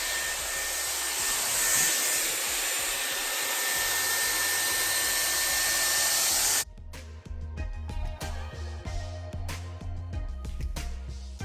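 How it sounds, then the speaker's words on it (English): A Dyson Airwrap hair dryer blasts hot air at the roots of hair, a loud, steady close-up whooshing roar for about six seconds that cuts off abruptly, leaving quieter handling rustles. "that kind of just helps like blast the roots with the dryer as well"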